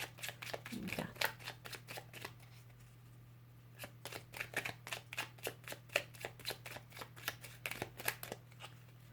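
Playing cards shuffled and drawn by hand, a soft riffle near the start followed by a steady series of crisp flicks and snaps, close and fairly quiet over a faint low hum.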